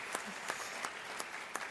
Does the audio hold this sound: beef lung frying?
no